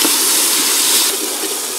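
About two tablespoons of garlic sizzle in a pot while broccoli cheddar soup is being made, giving a steady, close, bright hiss that runs unbroken, with no one talking.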